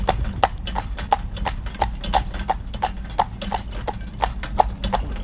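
An older cob mare trotting while ridden, hooves clip-clopping in a steady, even two-beat rhythm, close and clear, with faint talking underneath.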